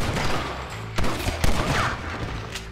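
Gunfire in the Western game Red Dead Redemption: a few sharp, loud shots ring out over a rumbling background of game ambience, close and alone, with no talking.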